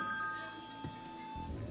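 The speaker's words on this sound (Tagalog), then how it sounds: "Ay, telepono." A telephone rings indoors in a Filipino household setting, a steady tonal ring heard briefly at moderate level with faint background room noise.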